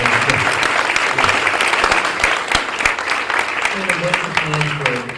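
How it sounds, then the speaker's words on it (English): Applause fills a school board meeting room, steady clapping from a seated crowd throughout, with voices faintly talking underneath toward the end. "one last round of applause"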